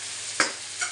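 Spaghetti noodles stirred in a pan for a home breakfast dish, a brief scrape of the utensil over a faint steady sizzle, with a second softer stir just after.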